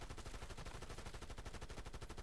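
A light machine gun in a Call of Duty game fires a rapid, steady stream of evenly spaced shots, a continuous mechanical rattle that stays fairly faint and unbroken throughout.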